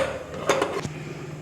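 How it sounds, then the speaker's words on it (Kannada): A metal lid set down on a pot of boiling country chicken curry gives a few close, brief clinks and clatters, followed by a quiet simmering hum. "ಇವಾಗ ಕುದೀತಾ ಇದೆ, ಇವಾಗ ಮುಚ್ಚಳ ಮುಚ್ಚೋಣ"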